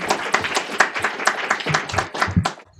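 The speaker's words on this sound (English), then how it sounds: "Please, a warm round of applause." A lecture audience claps after a talk on Korea's foreign policy under Park Geun-hye. The sharp, distinct hand claps sound moderately dense and fairly close, and they thin out toward the end.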